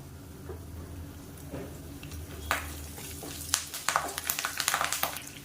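Curry leaves drop into hot oil with cumin for a Tamil-style egg curry, giving a soft steady sizzle that flares into sharper crackling pops toward the end, close and moderately loud with no voices.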